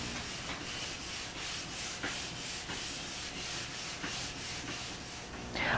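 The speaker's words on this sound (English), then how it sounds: "Now, I'm going to begin sanding the wet surface the same way I would normally." Rubber sanding block rubbing back and forth over a wet polyurethane finish on plywood, a steady close scraping hiss in repeated strokes with no talk.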